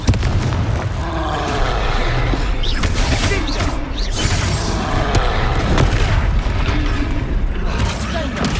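Confringo fire spell blasting a troll in Hogwarts Legacy, a loud, dense barrage of booming explosions and crackling impacts that roll on without a break, thick low rumble under bright bursts of battle noise.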